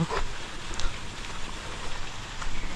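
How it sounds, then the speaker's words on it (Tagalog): Rain falls steadily during a stretch of bad weather, a continuous close patter of drops on surfaces with no voices. "Naulan-ulan na naman."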